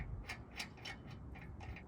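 Lug nuts coming off a car wheel during a roadside tire change, heard as a series of close metallic clicks and ratcheting ticks at a steady rhythm over a low rumble of background noise, with no talk.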